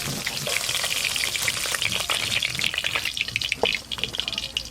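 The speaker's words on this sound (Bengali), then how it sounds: "এবার এই চিংড়ি মাছগুলোও ভালো করে ভেজে নেব" Prawns frying in hot oil in a home kitchen, a steady close sizzle and crackle with occasional spatters and stirring, no talk.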